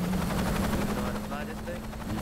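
A helicopter in the video game Saints Row 2 drones with a loud, steady rotor hum and engine noise, while a voice speaks over it.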